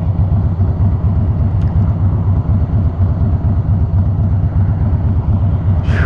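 Low steady engine rumble from inside a car travelling along a rough road, continuous and close, with a brief higher scrape near the end.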